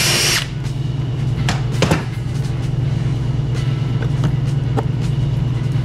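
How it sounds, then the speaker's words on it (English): A power drill bores a hole up under a 2023 GMC Canyon pickup during a mud flap install: a loud steady motor whine with short bursts of bit chatter, close and alone, no talk. "All right, and drill out this"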